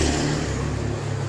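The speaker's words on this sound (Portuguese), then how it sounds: "Moto passou ali mesmo." A motorcycle passes by on a street with a brief, loud engine rumble that swells and fades within a second.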